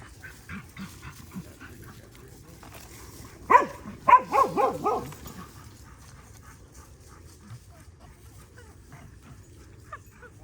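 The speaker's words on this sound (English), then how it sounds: "look at this dog." A dog gives a short cluster of yips and whimpering barks, fairly close, then goes quiet against a low background hum.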